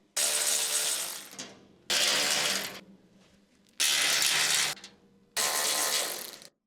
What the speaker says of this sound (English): Use the medium-sized 4mm hex socket with the medium-sized electric impact wrench to remove the